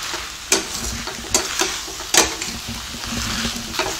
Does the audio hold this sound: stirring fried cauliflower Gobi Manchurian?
yes